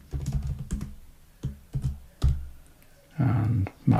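A computer keyboard clicks close up in short bursts of keystrokes with brief pauses between them.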